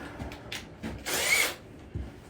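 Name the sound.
impact driver power tool being tried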